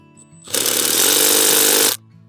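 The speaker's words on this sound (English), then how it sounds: "Sometimes when you're using a bolt driver, you'll need to adjust the setting to give yourself a little more power." A power bolt driver drives a bolt into a DIY mailbox, a single loud, harsh burst of rattling whir lasting about a second and a half, starting and stopping abruptly.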